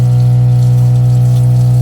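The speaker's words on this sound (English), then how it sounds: "And this is our Water pump." Campervan water pump running steadily with a loud, constant motor hum and rushing water as hot water flows, continuous and close with no talk.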